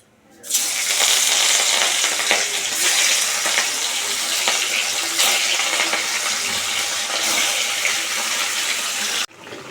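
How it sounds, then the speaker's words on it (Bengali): Fish frying in a hot pan gives a loud, dense, continuous sizzle that starts abruptly and holds steady for several seconds before cutting off, with no speech. "এবার মাছগুলো ভেজে নেবো"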